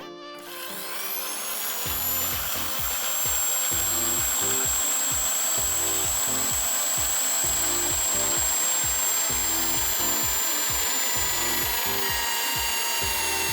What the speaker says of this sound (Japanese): 8mm のドリルビットを使ってみることにします。